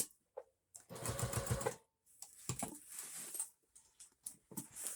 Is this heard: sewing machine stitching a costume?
yes